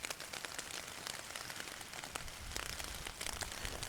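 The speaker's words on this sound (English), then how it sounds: "it's hailing, it's rain, I've had hail, I've had sleet" Hail and rain pelting a tarp shelter in a Northumberland forest, a dense close patter that drums steadily on the fabric with sharper scattered hits throughout.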